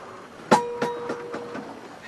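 A sharp metallic clack close by as a boat's shore power cable flap slams shut, followed by a few lighter rattling knocks that fade over the next second.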